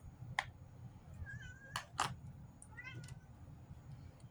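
A cat meows several times in short, separate cries, fairly faint over a low background hum, with no talking.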